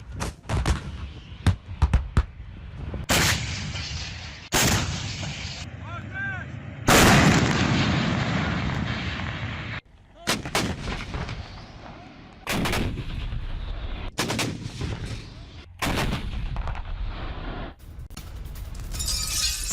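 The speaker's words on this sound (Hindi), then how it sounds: "रॉकेट लॉन्चर से यूक्रेनी ठिकानों पर कैसे हमले को अंजाम दिया गया, उसकी तस्वीर" Heavy booms and blasts of rocket launcher fire during the Russian attack on Ukraine near Zaporizhzhia, loud repeated explosive bursts separated by short gaps, some with long rumbling tails, no talk.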